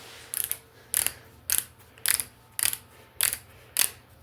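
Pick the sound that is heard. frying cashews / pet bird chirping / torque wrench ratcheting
torque wrench ratcheting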